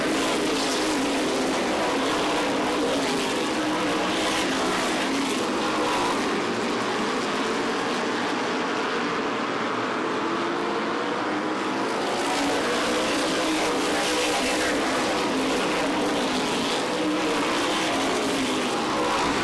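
Stock race cars roar around an oval track in a 2005 MRS Star 100 race, a continuous loud engine drone that swells and fades as cars pass, with no talk over it.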